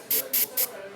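An airbrush spraying basecoat onto a model in three short, evenly spaced bursts, each a sharp, close hiss that stops cleanly, with a quiet gap between them.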